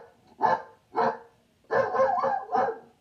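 Dogs bark in five sharp bursts, two spaced apart and then three in quick succession, loud and close with quiet gaps between.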